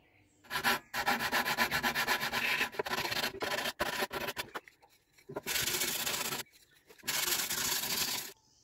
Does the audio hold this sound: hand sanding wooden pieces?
yes